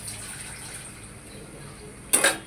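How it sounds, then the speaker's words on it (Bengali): More water added to a simmering pot of pangas fish curry in a home kitchen: a quiet background hum, then a short, bright splash of pouring near the end. "আর একটু পানি দিব।"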